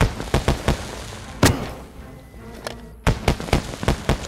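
Sharp explosive bangs from a C4 charge in the DayZ video game, with one heavy blast followed by a cluster of quicker cracks, loud and close.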